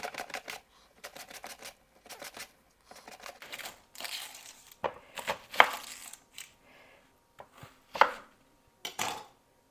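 Green tomatoes sliced with a knife on a cutting board, a quick series of crisp, close chopping strokes in bursts with brief pauses between them.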